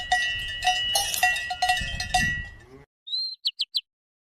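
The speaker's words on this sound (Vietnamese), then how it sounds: "Chim chìa vôi." A wagtail gives a thin whistled note and then three quick high chirps, heard alone after a run of clanking cowbells fades out.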